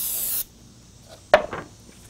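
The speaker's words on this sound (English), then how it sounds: "So I'll take the activator and spray it on one side." A short, loud hiss of an aerosol glue activator spray burst, then quiet, followed by a brief sharper spritz with a few trailing hisses.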